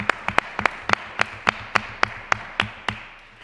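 Applause at a round-table discussion, a single person clapping about a dozen times at a steady, unhurried rhythm, close and distinct, with no one else clapping along.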